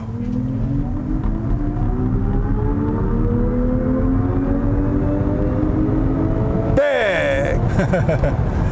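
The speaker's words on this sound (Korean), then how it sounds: "자, 급가속을 한번 해보겠습니다." Rear-wheel-drive long-range Kia EV6 accelerating hard in sport mode, an electric motor whine climbing steadily in pitch over road rumble, with a voice cutting in abruptly near the end.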